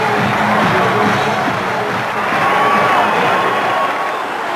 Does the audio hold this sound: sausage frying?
no